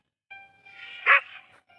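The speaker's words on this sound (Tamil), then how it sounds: "இந்த நாய் ஏன் கத்துச்சு?" A dog barks in the horror game Endless Nightmare, a single sharp bark rising out of a short whining tone, close and clear with no talk.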